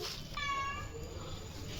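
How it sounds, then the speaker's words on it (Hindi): A single soft, high meow from a cat rises and falls briefly, fairly close but quiet, over a low background hum. "अब आप क्यों म्याऊं म्याऊं कर रहे हैं"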